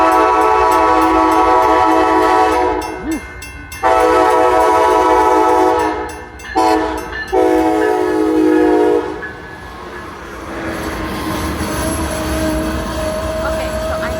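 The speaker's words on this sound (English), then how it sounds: "And it is Amtrak." Amtrak passenger train horn sounding in long, loud blasts over the steady rumble of the passing cars, with brief gaps between the blasts, then fading to a lower rolling rumble.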